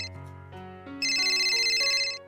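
A loud electronic phone ringtone plays alone, a bright melodic tune that steps upward and repeats.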